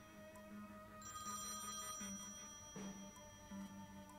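A telephone rings in the Thimbleweed Park adventure game, a quiet repeating electronic trill with short regular bursts over a low hum.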